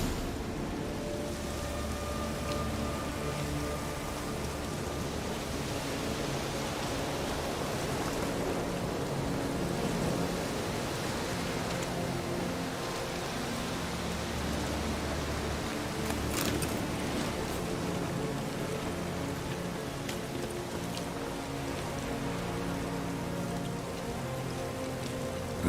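Steady rain falls throughout in The Witcher 3, a dense, even patter on surfaces with a low rumbling bed beneath, continuous and fairly close for the whole stretch.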